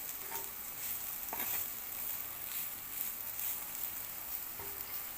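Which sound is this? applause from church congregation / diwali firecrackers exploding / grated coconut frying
grated coconut frying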